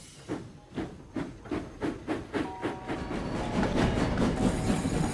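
Culdee, a steam locomotive on a mountain railway, chuffs in a quick regular rhythm of hissing steam beats that swell into a continuous loud hiss, close and with no talk.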